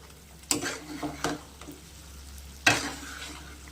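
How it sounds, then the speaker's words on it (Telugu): A spoon stirs chicken frying in a pan, with a low steady sizzle beneath three scraping strokes of the utensil, the last one loudest, at close range and with no speech. "ఇట్లా తిప్పుకుంటూ ఉండాలి ఫ్రెండ్స్ అప్పుడైతే మనకు మాడకోకుండా మంచిగా ముక్క ఫ్రై అవుతూ ఉంటుంది"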